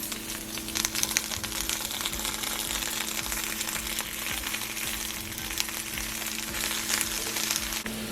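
Steady crackling sizzle of vegetables and garlic cloves roasting in a hot pan, continuous and fairly close, with a low hum underneath and no talking.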